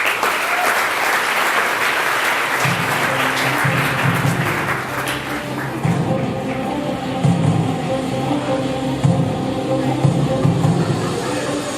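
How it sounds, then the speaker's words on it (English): An audience at a ceremony applauds in a steady, full round of clapping, which continues under music and a voice that come in partway through. "let's give them both a round of applause"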